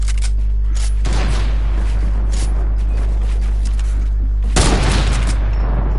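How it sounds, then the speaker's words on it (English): Rapid video game gunfire rattles in dense bursts, one burst sustained through the first second and another louder volley near the end, over a steady low hum with no talk. "He's shooting, you know."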